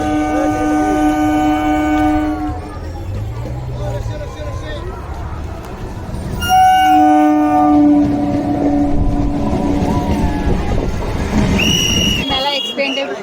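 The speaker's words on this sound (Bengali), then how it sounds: "এখন ট্রেন ঢুকছে, দেখো ট্রেনটা যাচ্ছে দেখো" A train rolls past an open spot beside a crowded fair at Thakurnagar, North 24 Parganas. Two long, loud horn blasts sound over steady rumble and wheel noise, with people's voices in the background.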